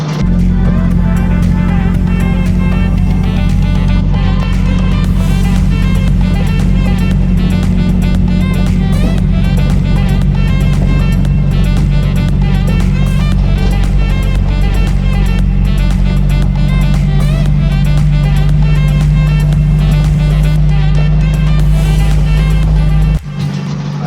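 An Opel Astra F with parts unplugged drives along a road, giving a loud, steady engine drone and road rumble that runs unbroken and close for about twenty-four seconds, with no talking.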